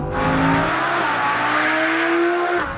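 An Audi R8 V10 Plus with its 5.2-liter V10 in performance mode roars loudly as it accelerates, the engine pitch rising steadily and alone.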